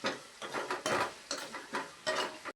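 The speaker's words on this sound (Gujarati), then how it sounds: "પછી એને સરખી રીતે મિક્સ કરી લેવાનું" A spoon beats gram flour dhokla batter with sugar in a bowl, a quick steady rhythm of soft wet scrapes and light clinks against the bowl's side, close-up and continuous, with no voice.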